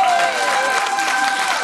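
Applause from a crowd for a Dutch choir on a regional television broadcast, a steady, fairly loud clatter of many hands with a faint tonal hum running underneath.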